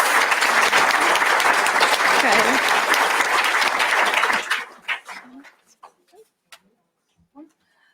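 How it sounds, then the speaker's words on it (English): A workshop audience applauds a panel loudly and steadily for about four seconds, then the clapping quickly thins out to a few scattered claps. "Can we have a quick round of applause for my panel of partners"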